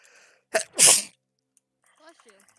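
A single sharp human sneeze, loud and close, with a brief intake just before it, followed by a faint stretch of quiet speech afterward.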